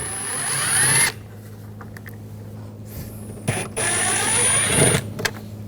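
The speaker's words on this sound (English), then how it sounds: "Now we're going to take these screws out," A power driver with a T20 socket backs screws out of the rear door of a 2000–2006 BMW X5. Two close bursts of high whirring are separated by a quieter pause with faint handling clicks.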